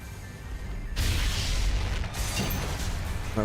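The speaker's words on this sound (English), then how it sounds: "That was an explosion." A game explosion in Mass Effect 3 sets off a sudden loud boom with a broad roaring rumble that holds for a couple of seconds over a steady background drone.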